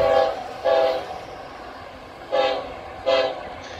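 Union Pacific 4141 locomotive, stopped at Navasota, sounds its horn in four short blasts: two in quick succession, a pause, then two more, fairly distant and clear over faint background noise.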